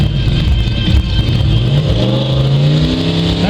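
A Toyota Supra VTG drag car, a quarter-mile machine at a drag event in Trenčín, revs its engine loudly and steadily, the pitch climbing toward the end.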